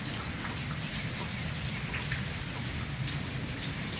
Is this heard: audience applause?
no